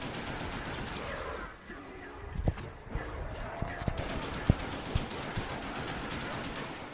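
An HK gun fires at zombies in Black Ops Zombies on the Der Riese map: a few sharp, scattered shots over a steady, busy game backdrop.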